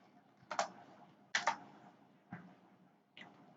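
Scattered keystrokes on a computer keyboard, a few quick clusters of clicks separated by pauses, close and fairly quiet in an otherwise silent room.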